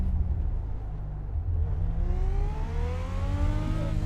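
A race car engine on the track at New Smyrna hums steadily and then climbs in pitch as the driver accelerates, rising whine layered over a low rumble, close and continuous.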